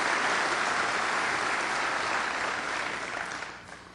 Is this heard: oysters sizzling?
no